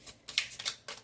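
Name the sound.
tarot cards being drawn and shuffled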